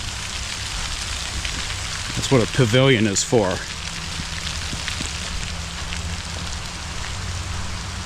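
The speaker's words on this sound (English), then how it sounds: "There comes the rain." Rain shower pours down steadily around an open-roofed pavilion at Blackwater River State Park in Florida, a continuous hiss of drops throughout with someone speaking briefly near the middle.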